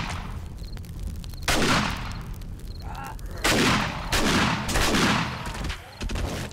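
Bursts of gunfire in the survival game 7 Days to Die, three or four loud volleys of rapid shots spread across the clip with short gaps between them, no voices.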